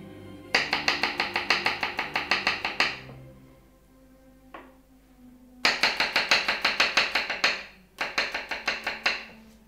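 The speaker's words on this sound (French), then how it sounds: "Maintenant, nous allons hacher l'ail, la gousse d'ail." A knife chops a garlic clove on a board in three quick rhythmic bursts of crisp taps, close and clear, with short pauses and a small clink between, no talking.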